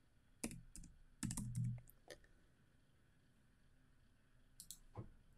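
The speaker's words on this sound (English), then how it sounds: "I'm just gonna start typing" Quiet computer keyboard typing during laser-engraving software setup: a few clustered keystroke clicks, a short burst, a pause, then a couple more taps, close and soft in a hushed room.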